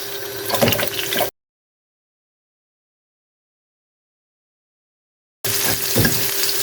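Onions sizzling as they fry in oil left over from frying liver, a steady crackling hiss with some stirring, heard in two short stretches separated by a long gap of complete silence.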